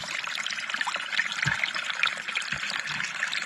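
Water splashes and trickles steadily over a freshly dug blue quartz specimen during a quick rinse, a constant close-up pour with small knocks and no speech.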